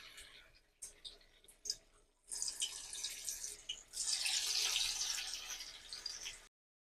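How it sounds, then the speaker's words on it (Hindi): Shredded lachha potato balls dropped one by one into hot oil, giving a hissing sizzle that swells after a few faint clicks and holds steady near the pan, with no talking. "ये देखें, ऑयल गर्म हो गया, इसमें हम डालते हैं, एक एक करके डालेंगे हम।"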